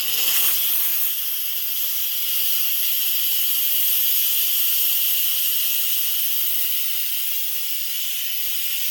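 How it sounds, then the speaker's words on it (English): Steam from a pressure cooker valve on quick release, a loud, steady, forceful hiss that holds alone and unbroken from start to finish. "the steam will start to come out, and it's extremely hot. You can get burned. And it comes out pretty forceful."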